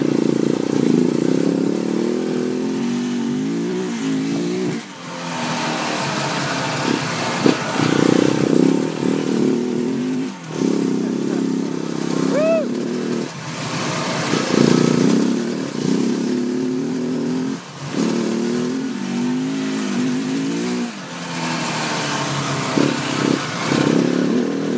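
A KTM 690 Enduro motorcycle engine revs hard while riding off-road, loud and close, rising and falling through throttle changes with brief dips between pulls and steady wind rush over it.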